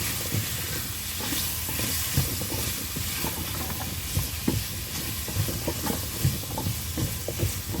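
Pumpkin stir-fried in a pan for a Korean-style curry sizzles and hisses steadily, with repeated scraping stirs of a utensil against the pan, close and continuous with no talk.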